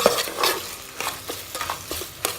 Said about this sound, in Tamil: பட்டை, மசாலாவை மிக்ஸ் ஆகணும்